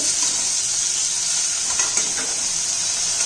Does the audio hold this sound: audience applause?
no